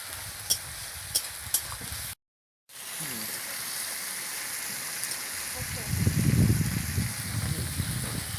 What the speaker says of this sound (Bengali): টমেটোটা দিয়ে দিয়েছি, একটু নাড়তে থাকবো, ভালো করে নেড়ে নেব।